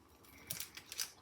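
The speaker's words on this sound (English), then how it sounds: "we're going to cut our onion into 1/2" A knife slicing an onion in half on a cutting plate gives a few quiet, crisp crunching cuts in quick succession, faint and close, with no talking.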